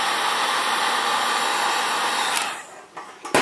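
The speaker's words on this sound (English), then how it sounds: "Use the heat gun and it'll just shrink that tubing" A heat gun blows hot air onto heat shrink tubing over an LED, a steady close whooshing roar that cuts off after about two and a half seconds, followed by a few faint handling clicks.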